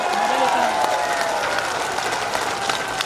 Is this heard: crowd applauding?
yes